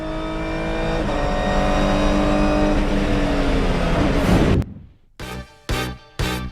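A GT race car at Motorland Aragon accelerating flat out, its loud engine climbing steadily through the gears for about four seconds before cutting off abruptly, followed by a few short bursts of engine noise.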